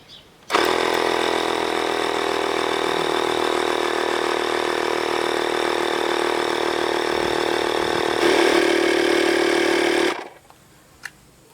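12V digital air compressor inflating a car tyre, starting abruptly and running as a steady buzzing mechanical drone for about ten seconds before cutting off.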